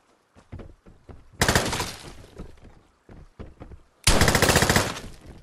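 Loud automatic gunfire in the shooter game Vigor comes in two sustained bursts, preceded by a few sharp single shots and short gaps.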